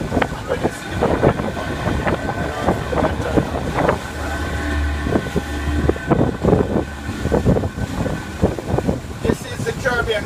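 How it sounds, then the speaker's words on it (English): A glass-bottomed boat's engine runs steadily on the warm Caribbean Sea, a low continuous rumble mixed with wind buffeting the microphone and water noise, with someone talking over it throughout. "The engine kind of scare them"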